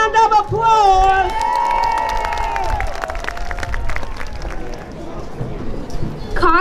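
Audience applause and cheering at an autism awareness flag-raising event, a sustained crowd of clapping that swells and tapers over several seconds, with a voice over a speaker system briefly audible.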